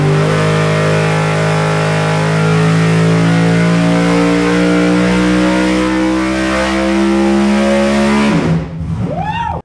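A NASCAR Cup V8 stroked to 406 cubic inches, dry sump with roller valvetrain, revs hard on a dyno, a steady loud harmonic howl holding high RPM before the pitch drops sharply as the throttle closes near the end.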